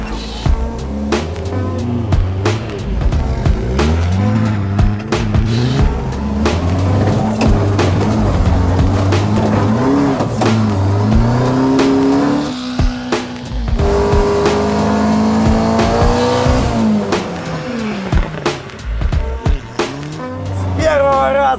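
A Zhiguli-rival car accelerates and drifts on a snowy winter track at the Red Ring circuit, its engine revving hard in rising and falling sweeps with tire squeal, close and loud throughout, a brief lull midway.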